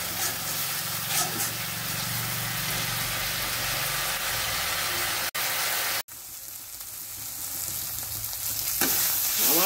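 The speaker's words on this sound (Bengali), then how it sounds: "রসুন, পেঁয়াজ সব মোটামুটি ভাজা হয়ে গেছে।" Chopped tomato, ginger, garlic and onion frying together in a pan for a fish head and potato curry, a steady close sizzle with stirring that cuts out abruptly twice, then resumes briefly, no voices.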